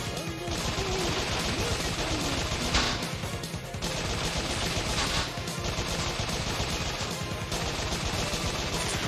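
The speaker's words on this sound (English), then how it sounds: "Machine gun." Sustained rapid machine gun fire in the video game Bot Vice, a loud, dense rattling burst that continues almost unbroken with short dips and heavy booming impacts.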